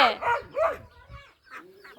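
Ducks arriving at evening feeding time give a series of short, close nasal calls with gaps between them, sounding alongside a person talking.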